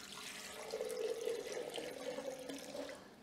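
Water pours steadily into a blender jar for a spice marinade, a continuous close splashing stream lasting several seconds that tapers off at the end.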